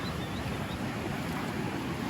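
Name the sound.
Colorado River flowing in the Grand Canyon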